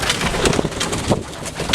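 Racing homer pigeons in a loft give soft, throaty coos, several short murmuring calls in quick succession close by, with no talking.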